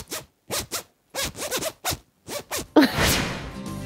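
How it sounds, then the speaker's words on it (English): A clothing zip is yanked open and shut very fast, giving a string of about nine short, crisp rasping bursts with brief gaps, then a longer, louder scratchy rip to finish, close and with no talk. "Did you hear the sound the zip made when I opened and closed it really fast?"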